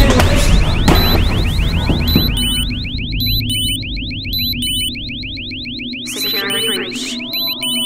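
A security alarm blares loudly and continuously, a rapid repeating electronic warble with chirping tones layered over it and a low rumble underneath.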